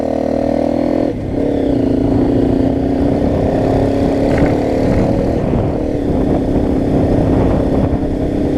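Motorbikes running steadily on a road at close range, a loud continuous engine drone with a brief dip early on and no talking.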